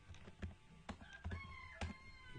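Quiet, scattered keystrokes on a computer keyboard while entering text in PowerPoint, a handful of soft irregular clicks close by.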